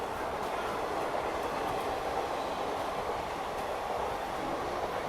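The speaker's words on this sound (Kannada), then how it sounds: "ಯಾವುದೋ ಟ್ರೈನ್" A train runs past with a steady, dense rumble and rattle of wheels on rails, heard from aboard a tourist train, continuous and moderately loud with no talk.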